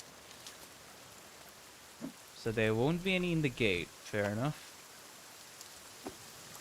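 Rain falls in the survival video game The Forest as a soft, steady hiss in the background, with a person speaking briefly over it in the middle.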